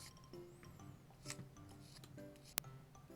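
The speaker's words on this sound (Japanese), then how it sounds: "ある程度段差を小さくすることができたら紙やすりで面を整えていきます" Sandpaper smooths the surface of a Bandai LM Final Fantasy 7 Cloud model kit: quiet, close scratchy rubbing strokes with a single sharp click near the end.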